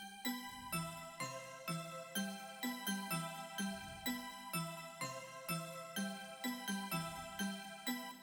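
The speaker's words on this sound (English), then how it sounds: "So the bells is Hands Up Bells 3 in Nexus." The Hands Up Bells 3 preset in Nexus playing a bell melody for a beat: bright, ringing bell tones in a steady repeating pattern with regular attacks, quiet and alone.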